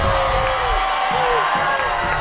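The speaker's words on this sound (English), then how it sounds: "Bulldog fans are booing, Pottsboro fans are cheering" A large crowd at a high school football game in Bulldog Stadium keeps up a loud, steady roar of mixed cheering and jeering, while an announcer talks over it.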